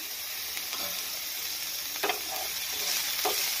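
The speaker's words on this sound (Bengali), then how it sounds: "এখন রসুনটা দিয়ে দিলাম," Garlic sizzles steadily in a small amount of hot oil in a pan, a continuous bright frying hiss with a few short clicks and stirring scrapes, close and alone with no talk.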